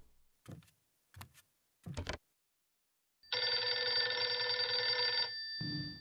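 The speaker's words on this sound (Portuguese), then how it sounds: "Outro toque de telefone." A telephone rings with one long, loud electronic ring lasting about two seconds. A few short clicks or knocks come before it, and no one speaks.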